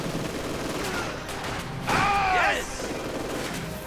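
Sniper rifle fire rings out in a Company of Heroes 2 one-versus-one match, set over a steady bed of distant battlefield noise, with one louder, sharper burst standing out midway through.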